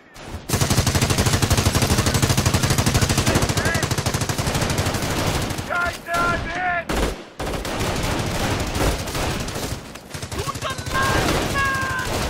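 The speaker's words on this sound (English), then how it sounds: "The MG emplacement is suppressing the enemy troops." A Company of Heroes MG emplacement hammers out long, rapid bursts, a dense rattling stream that runs for seconds, breaks briefly, then resumes, with battle effects and a voice in the background.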